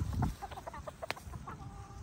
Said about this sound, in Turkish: Tavuklarımız güneşe çıkmış.